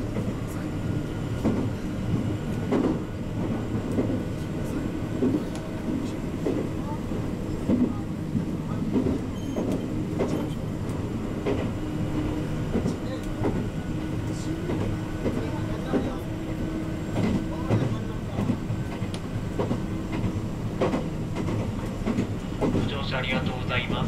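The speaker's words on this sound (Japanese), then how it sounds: "この列車は須賀口対馬方面準急弥富行きです" A Meitetsu Panorama Car, a front-view limited-stop local train bound for Yatomi, runs steadily on rails with continuous rumbling and faint rhythmic wheel clicks. It is heard from inside the car.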